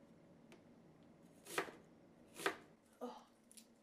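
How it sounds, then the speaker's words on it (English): A knife cuts an onion into half rings on a board, giving three or four sharp, crisp chops spaced about a second apart, close and fairly quiet, with no one speaking. "I'm just going to cut it in half and cut it into half rings."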